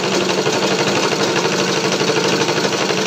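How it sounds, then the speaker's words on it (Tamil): An electric sewing machine runs a seam along a Patiala pant, a loud close, fast rhythmic mechanical whir that pulses evenly without pause. "இந்த சைடு ஃபுல்லாகவே தையல் போட்டுக்கணுங்க"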